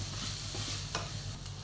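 Onion, crushed ginger and garlic sizzle in a pan while being stirred for mutton curry, with a steady quiet frying hiss and one sharp utensil scrape partway through.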